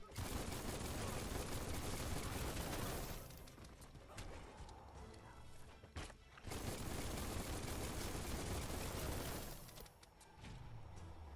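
Gunfire in the video game Biomutant, with loud dense bursts of shots that pause briefly and then start again, close and heavy throughout.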